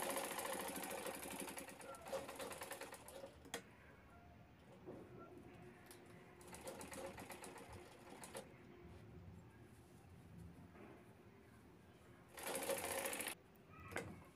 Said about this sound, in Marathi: तिन्ही साईडला शिलाई करून घ्यायची आहे।